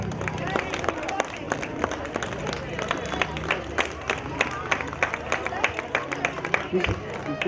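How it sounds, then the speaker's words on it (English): Audience applause at a school annual day event, dense steady clapping from a crowd filling the space, fairly loud and continuous with scattered sharp claps and faint background chatter. "A big round of applause, please."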